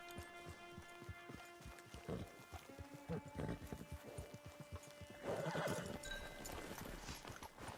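Horse hooves clip-clopping at a walk in a video game, with a clear neigh partway through, over soft ambient background sound.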